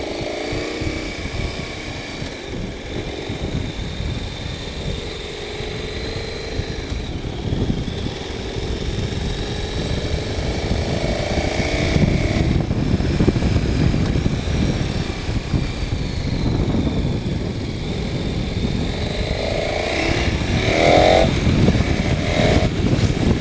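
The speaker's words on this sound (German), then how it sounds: "die 1190er ein wirklich starkes und tolles Motorrad" A 1190 motorcycle is ridden, its engine droning steadily with rising and falling revs over wind and road noise, loud and close throughout.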